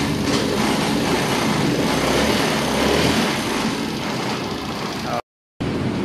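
A Kawasaki Brusky 125 motorcycle with a fuel pump fault runs steadily up close, giving a loud, continuous engine drone that cuts out briefly near the end.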